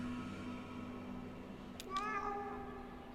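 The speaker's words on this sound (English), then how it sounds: "that's my cat meowing" A pet cat meows indoors in a quiet room, one short rising meow near the end over a faint steady hum, close and clear.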